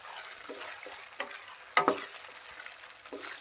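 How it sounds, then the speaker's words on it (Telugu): Brinjal and chana dal curry stirred in a pan with coriander powder, giving soft scraping and light sizzle with a few sharper spoon knocks near the middle, fairly quiet and without talk. "ఒకసారి కలిపేసుకొని స్టవ్ ఆఫ్ చేసుకుందాం"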